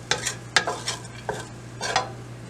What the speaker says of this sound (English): saute that ever so slightly in with our sausage